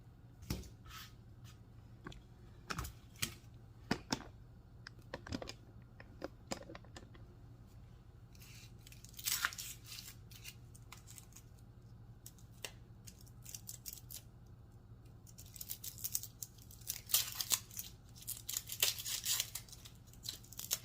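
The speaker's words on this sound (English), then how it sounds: "I'm just going to chop 1/2 cup of onion" A knife chopping onion on a cutting board, with close, sharp, irregular cuts and taps that bunch into rapid bursts toward the end, all against a quiet kitchen.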